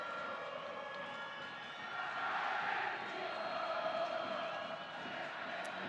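A football stadium crowd before a Concacaf League match between FC Motagua and Comunicaciones FC, a steady roar of many voices that swells briefly midway, with distant whistles and horns mixed in.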